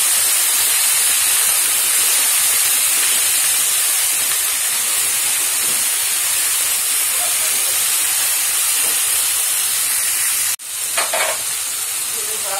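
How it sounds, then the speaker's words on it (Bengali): Okra, salted and dusted with turmeric, fries in a pan with a loud, dense, continuous sizzle, close up and steady, and a brief clatter near the end. "ঢেঁড়সটা হয়ে গেছে ভাজা"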